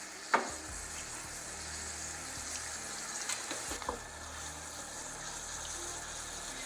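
Wine poured into a pan of sizzling potatoes and chanterelles with garlic, a steady, moderate frying hiss with a sharp tap near the start and a few soft stirring knocks.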